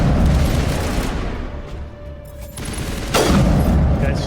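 Video game gunfire in Mass Effect: dense, loud bursts of rapid shots and booms, dipping briefly and then surging again near the end, with no voices.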